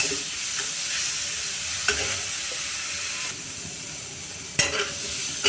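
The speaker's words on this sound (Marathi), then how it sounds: "आता आपल्याला हे छान लाल करून घ्यायचा आहे कांदा" Onion frying in a pan with chilli and ginger-garlic paste for bitter gourd sabji, a loud, steady sizzle broken by occasional spoon scrapes and clinks against the pan, with no speech.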